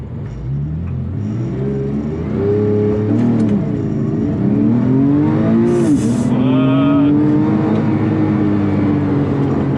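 A 3.8-litre Porsche 911 Carrera 997.2 launches hard with launch control, its engine climbing loud and close through rising revs with a brief gear-change dip before pulling strongly again.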